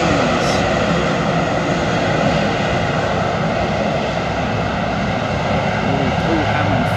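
Delta Boeing 767-400 jet flying downwind over Staines near Heathrow, a steady broadband engine roar holding loud and constant throughout.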